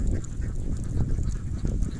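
A large flock of ducks at a rural duck farm during laying season, with dense, continuous overlapping quacks and honking calls close by, loud and steady throughout with no talking.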